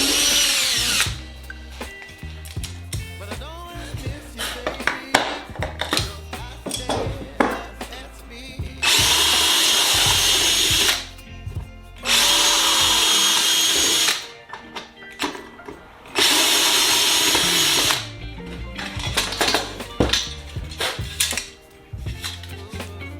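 A power drill bores rivet holes in an aluminium flap drive rib for a Sonex aircraft build, with bursts of loud, high whirring drilling between stretches of quieter handling and tool clatter.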